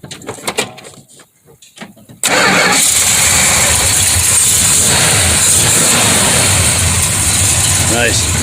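A muscle car's engine cranks and catches, then roars loudly and steadily at close range, drowning out the brief talk heard beforehand.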